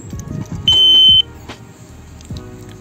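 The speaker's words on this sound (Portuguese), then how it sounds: "Segundo, ela vai dar 5 bips seguidos." Sharp electronic beep from a disc brake lock alarm, a single loud tone lasting about half a second, with small clicks and rattles around it and no talking.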